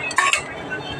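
A hot dog drops into a soup pot for Filipino sopas, giving two quick metallic clinks against the pot close up, then a soft settling sound.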